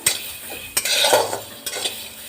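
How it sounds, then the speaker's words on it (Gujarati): Raw moong beans dry-roasting in a pan without oil, stirred continuously with a metal spoon, giving close, loud scraping strokes with a light dry rattle of beans. "આ રીતે આપણે એને સતત હલાવતા રહેવાનું છે એક જગ્યાએ નથી રહેવા દેવાના"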